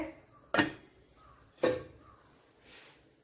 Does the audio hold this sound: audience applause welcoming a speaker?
no